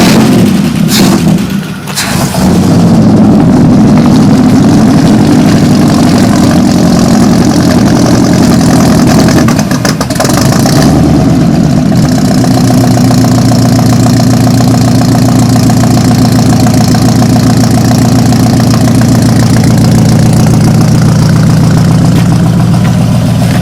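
A 1966 Oldsmobile Toronado engine turns over and starts, then settles into a loud, steady, rough idle close by that goes on for some twenty seconds, with no talk over it.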